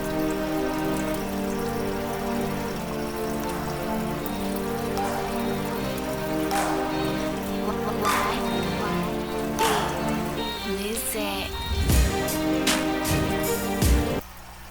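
Steady splashing and trickling of water in an aquarium sump, a continuous close wet patter with a few louder drips and splashes toward the end.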